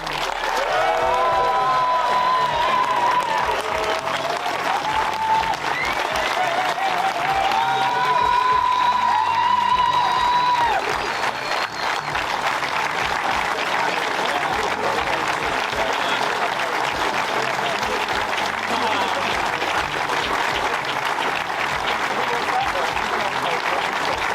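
A crowd at the Race of Remembrance 2024 12-hour bio-diesel endurance race cheers and applauds the winning team in a dense, sustained roar of clapping with scattered whoops, and a few horn-like tones sound early on.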